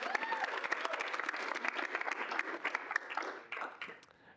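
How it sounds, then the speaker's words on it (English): A round of applause from a Student Senate meeting audience, many hands clapping densely and steadily for about four seconds, then thinning and fading toward the end. "If we can get a round of applause."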